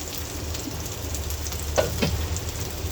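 Chopped onion and garlic frying in mustard oil while being stirred, giving a steady close sizzle with a few brief scraping clatters near the end, no talking.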